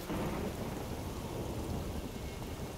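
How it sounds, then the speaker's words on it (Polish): A dense thunderstorm in The Witcher 3 video game: heavy rain hisses steadily under a deep, continuous rolling rumble of thunder, loud and unbroken with no voices. "ja uwielbiam, jak burze są"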